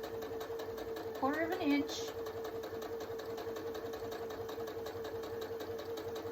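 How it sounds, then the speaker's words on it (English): A sewing machine stitches fabric pieces for a four patch quilt block, its steady mid-pitched whir running the whole time, with someone speaking briefly near the start over the machine. "We're gonna sew all the way down"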